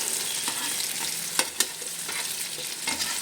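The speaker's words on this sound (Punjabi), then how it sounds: "ਹਿਲਾ ਦੇਵਾਂਗੇ ਸਾਰੀ ਅਰਬੀ ਨੂੰ" Pieces of taro (arbi) fry in hot oil, a steady close sizzle broken by a few sharp scrapes and taps of a spatula stirring them in the pan.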